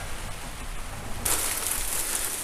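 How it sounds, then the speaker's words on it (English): Steady rain hisses outdoors, a dense continuous patter that grows brighter and louder halfway through as the downpour picks up, with no voices. "One is the damn rain"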